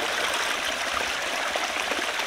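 Waterfall beside a hiking trail near a lakeside camping area, a steady rushing and gurgling of falling water heard close up, continuous and fairly loud with no talk over it.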